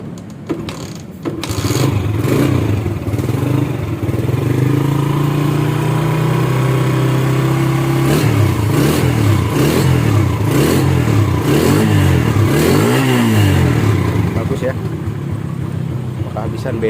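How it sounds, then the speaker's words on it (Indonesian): A restored Suzuki Shogun SP motorcycle engine runs close and loud, idling smoothly before repeated rising and falling revs, with a person talking over it. "Suara mesinnya halus, langsamnya bagus ya, tenaganya juga enak."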